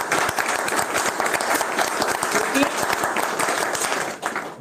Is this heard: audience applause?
yes